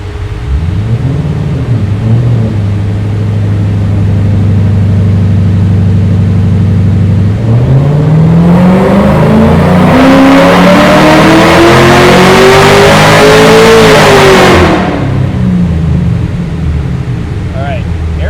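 A Ford GT500 engine on a dyno idles loudly, then revs up into a sustained full-throttle roar that climbs in pitch before dropping back off, very close.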